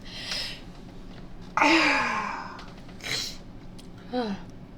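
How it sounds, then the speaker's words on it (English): A woman sneezes in a few quick bursts, one sharp loud sneeze followed by smaller gasps and nasal snorts, close and intimate over a quiet background. "I am so sorry if I keep sneezing."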